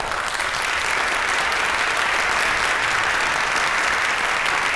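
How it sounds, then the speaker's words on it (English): A large crowd at a high school senior awards night applauds the students, a dense, continuous, loud wash of clapping that holds steady for several seconds. "Please join me once again in applauding all of our students."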